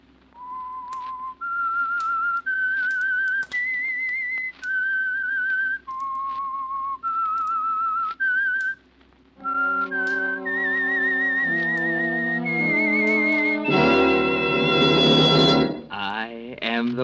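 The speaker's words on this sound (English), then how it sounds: "That whistle is your signal for the Signal Oil Program," A lone human whistler carries a slow, eerie signature theme for a radio drama, sustained pitched notes stepping up and down. Sustained instrumental chords then swell in beneath the whistled melody and build to a loud orchestral close.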